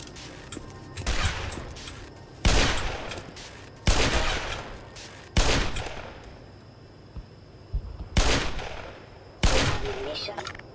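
Bursts of automatic gunfire from the game Black Mesa ring out in six loud, sharp volleys spaced about a second and a half apart, each decaying quickly before the next.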